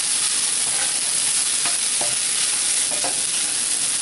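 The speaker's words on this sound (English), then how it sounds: "Then give it a mix." Sago khichdi with potatoes and crushed peanut powder is stirred in a pan, with a constant bright sizzle and a few soft scrapes of the spoon close by.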